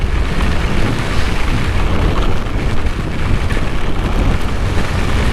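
Torrential rain pounds down during a motorcycle ride from Bicol to Laguna, a dense, loud, unbroken roar of water and wind filling the whole stretch.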